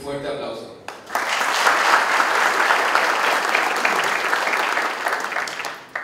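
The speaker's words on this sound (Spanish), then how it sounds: "Para ellos, un fuerte aplauso." An audience at a candidates' debate in Santa Rita bursts into loud, sustained applause after someone speaks, the clapping swelling and holding steady for several seconds before fading as talk resumes.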